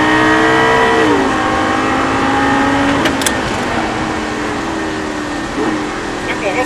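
A Lamborghini engine revs hard under acceleration on a track, a loud, sustained roar climbing in pitch, dropping with a gear change, then building again.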